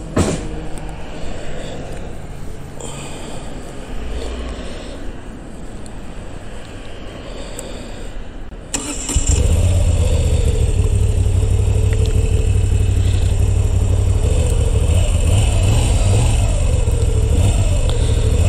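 A Moto Guzzi V7 850 Special motorcycle from 2022 starts up, jumping from a quiet background to a loud, steady, deep idle with a rumbling low tone and slight revving, close to the listener.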